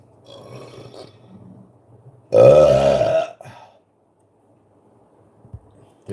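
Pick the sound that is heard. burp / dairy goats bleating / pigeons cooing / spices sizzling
burp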